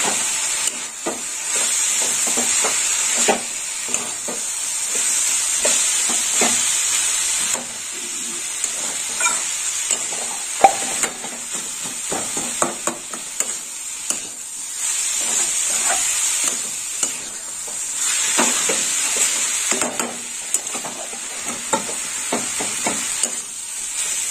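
Grated coconut frying in a pan with a continuous soft sizzle and hiss, broken by frequent light scraping and tapping as it is stirred.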